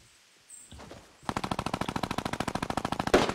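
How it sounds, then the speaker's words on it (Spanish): A rapid burst of automatic gunfire in the video game Fortnite, dozens of evenly spaced shots in a sustained loud stream, after a brief quiet start. "Se oyen disparos a derecha"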